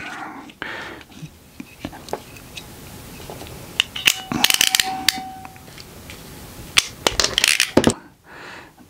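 Phone cable wires snipped with cutters, a scatter of sharp close clicks and snaps in irregular bursts, some clustered, with quiet whispery talk and handling noise between them.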